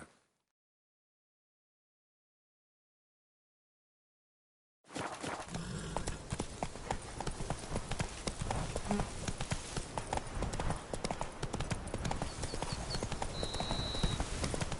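Horse galloping in the video game The Witcher, a steady close rhythm of hooves clopping after several seconds of silence, with faint voices.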